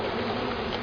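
Honeybees from a package box being shaken out in front of a hive, a dense steady buzzing filling the whole short moment close up, with no voices.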